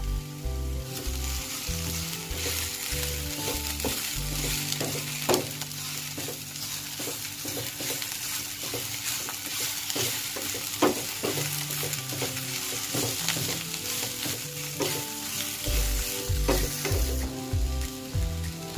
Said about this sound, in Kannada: ಈ ಸೊಪ್ಪೆಲ್ಲ ಒಂದ್ ಸ್ವಲ್ಪ ಹೊತ್ತು ಚೆನ್ನಾಗಿ ಬಾಡೋ ತನಕ ಇದನ್ನ ಫ್ರೈ ಮಾಡ್ಕೊಳ್ಳೋಣ